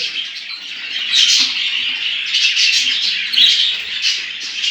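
Budgerigars in a home breeding aviary chirp and chatter continuously and close by, a dense, bright twittering with overlapping calls and occasional louder squawks.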